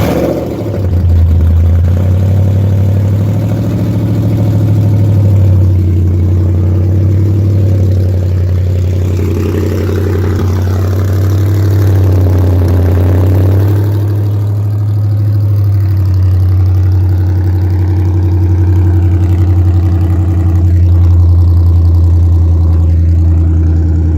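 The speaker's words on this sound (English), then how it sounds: "So I got wide open headers. There's no exhaust on this car anymore." A car with wide-open headers and no exhaust idles loudly up close, a steady, deep droning burble with strong harmonic tones that holds nearly constant throughout, with no voices.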